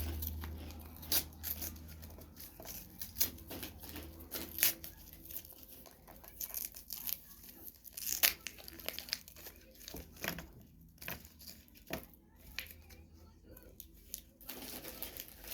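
A green toy box package being torn open by hand, with crinkly plastic crumpling and sharp tearing bursts coming in irregular spurts, close up and fairly quiet.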